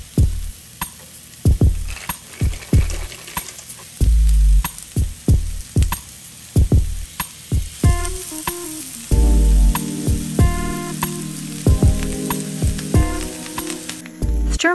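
Mixed vegetables stir-fry in a hot pan, a steady loud sizzle broken by repeated clattering stirs and scrapes of a utensil, with a low hum underneath throughout.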